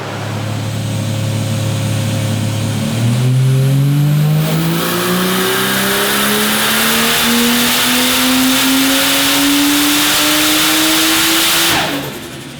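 A turbocharged car fitted with a Pulsar 3584 street turbo accelerates hard through the gears, its engine note climbing steadily after a shift, loud and close, then cutting off abruptly near the end.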